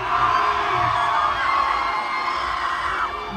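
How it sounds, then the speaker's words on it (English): Concert crowd at a live hip-hop show in Hawaii screaming and cheering together on a count, a loud sustained roar of many voices with yells and whoops, close and dense throughout. "the whole right side, even all the way over here, we going to scream on the count of three and show Shorty why his side"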